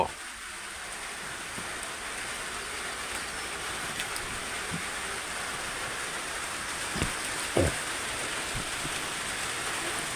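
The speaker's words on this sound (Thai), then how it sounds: "ฝนตกทั่วไทยเลย ตกทุกจังหวัด" Steady rain falling across Thailand, a continuous soft hiss of drops on surfaces with no voices, broken only by a couple of brief faint knocks near the end.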